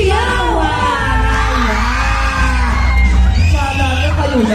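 A music festival crowd whoops, yells and cheers loudly in a sustained, overlapping roar, with voices calling out over a low thumping background.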